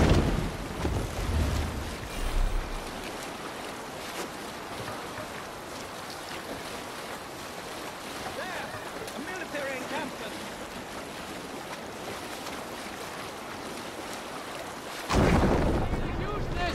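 A sailing ship at sea in Assassin's Creed Valhalla: a steady wash of wind and water runs throughout, with louder rumbling surges near the start and again at the end.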